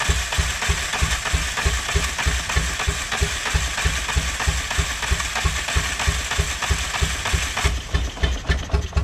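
A Peugeot 806 replica race car engine runs at a steady, rough idle, loud and close, with a regular low thumping pulse and some rattle throughout.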